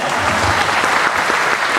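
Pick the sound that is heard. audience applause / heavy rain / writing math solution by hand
audience applause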